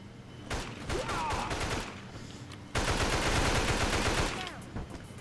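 Gunfire in a zombie shooter game, two long bursts of rapid automatic shots, loud and close, separated by a brief lull with scattered game sounds.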